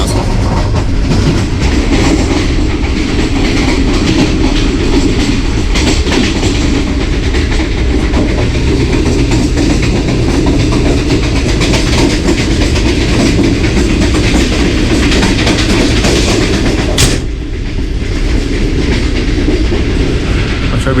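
A morning passenger train runs on rails at about 55 km/h in fog, heard from inside its air-conditioned parlour car as a loud, steady rumble with rhythmic wheel clatter and one brief sharp clack near the end.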